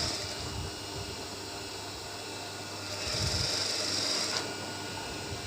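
Sewing machine stitching a suit armhole seam, a steady fine whirring hum at moderate distance with a slight surge in speed partway through, running alone without talk.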